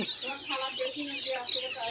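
Young broiler chicks chirp in quick, high overlapping peeps, faint and brief, with soft clucking underneath.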